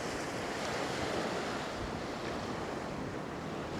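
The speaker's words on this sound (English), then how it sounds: "It's waves crashing against there and splashing over." Waves crash against a seaside promenade wall and splash over it, a steady, loud broadband roar of surf mixed with wind noise that lasts throughout, with no speech.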